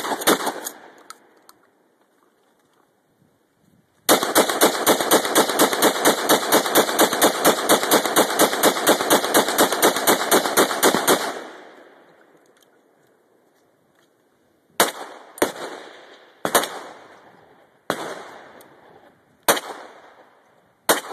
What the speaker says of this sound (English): I'm going to go through the shotgun, then the AR, then the pistol as fast as I can.